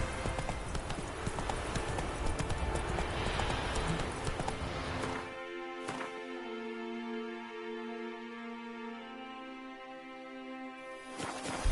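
Roach, the horse in The Witcher game, gallops with steady hoofbeat clip-clop under a broad wash of game noise, which drops away midway and leaves quieter tonal ambience.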